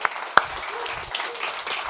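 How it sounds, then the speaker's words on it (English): An audience claps to welcome a speaker onto a stage, moderate applause from a crowd with one sharp nearby clap near the start. "Please clap it up for Frank."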